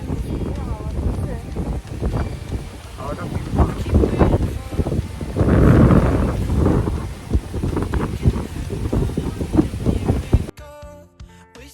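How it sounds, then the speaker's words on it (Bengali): Wind blows across a sea beach, buffeting the microphone in loud gusty rumbles that swell and fade, with a voice talking over it before it cuts off abruptly near the end. "জাস্ট হাওয়াটা দেখো, হাওয়া দিচ্ছে।"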